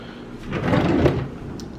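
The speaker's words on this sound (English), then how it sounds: "That's my random drawer for different tools, tongs and stuff." A kitchen drawer for tools, tongs and utensils slides open and shut in a home kitchen, one close wooden rumble swelling then settling over about a second, with no talking.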